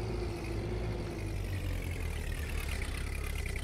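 A tractor forklift in Vintage Story sits idling, giving a steady low engine rumble with a faint rough texture that holds even and continuous throughout, with no talking.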